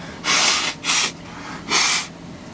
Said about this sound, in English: Gotta blow my nose sometimes.